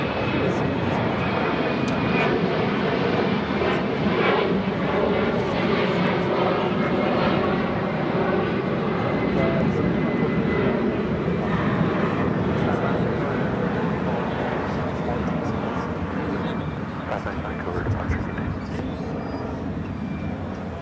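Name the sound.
airplane taking off and climbing steeply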